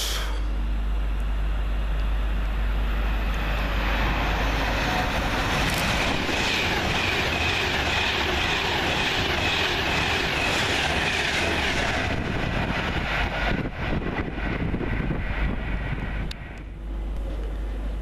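Class 390 unit 390-103, a fast Glasgow Central to London Euston service, thunders through Watford Junction station, giving a long, loud roar with rhythmic wheel clatter and wind buffeting that eases off near the end.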